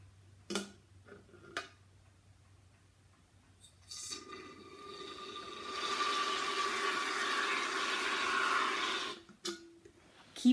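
Shaving cream sprays gently from an aerosol can onto the surface of water in a soft, steady hiss lasting about five seconds, preceded by a few faint clicks and quiet handling noises.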